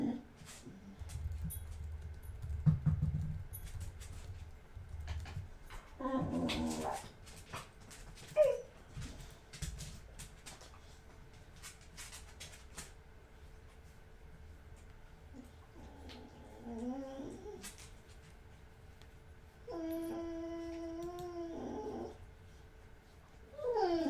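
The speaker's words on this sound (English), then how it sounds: "this dog is so ridiculous" A dog whimpers and whines in the background during a live game-development session, with short high-pitched whines coming in scattered bursts. The whines are faint to moderate under steady room noise, and a clearer run of them comes near the end.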